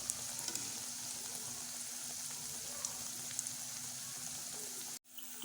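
Spinach-leaf palak pakoda frying in oil over a medium flame: a soft, continuous crackling sizzle with tiny pops, steady throughout and then cut off abruptly near the end, no talking.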